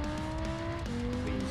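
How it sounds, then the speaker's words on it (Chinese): An Audi R8 supercar engine revving hard in a racing video game, a short steady high engine drone with a brief pitch shift, no voices. "引擎声可以哦。"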